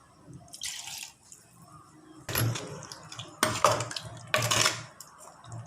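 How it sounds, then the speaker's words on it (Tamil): Water is poured into chicken curry with potatoes cooking in a pot, heard close up as bursts of splashing and liquid trickling, punctuated by clinks and clatters of metal cookware. "இன்னும் கொஞ்சம் தண்ணி ஊற்றுறேன்."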